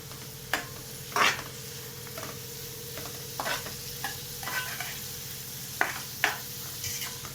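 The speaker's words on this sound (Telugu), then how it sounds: "దీనిలోకి మన ఉల్లిపాయలు వేగుతుండగానే మనం తగినంత పసుపు వేసుకున్నాము. బాగా మిక్స్ చేసుకోవాలి." Sliced onions dusted with turmeric sizzle steadily in a pan for a fish curry, with a spoon scraping and stirring through them in short, irregular strokes; no voices.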